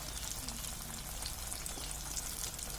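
Raw banana chops fry in hot oil with a steady, even sizzle that fills the whole moment, close and moderately loud, with no voices.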